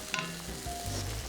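A brief, steady sizzle of pasta sauce with minced beef in a hot pan, with a soft stirring scrape partway through.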